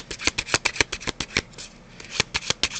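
A deck of tarot cards being shuffled up close, rapid papery riffles and slides in a quick uneven rhythm, fairly loud and alone.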